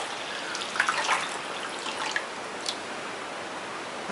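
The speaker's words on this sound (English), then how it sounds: "put about 3 litres of water in here" About three litres of water pour steadily into a slow cooker, a continuous rushing splash with faint droplet ticks, close and moderately quiet.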